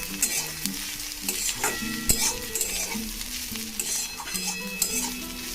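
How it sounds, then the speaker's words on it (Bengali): Masala egg bhurji being stirred in a hot pan, with a steady sizzle and repeated scraping strokes of a spatula along the metal, plus a sharp clack near the middle, close and clear with no voices. "একটু ভালো করে নেড়ে নিই।"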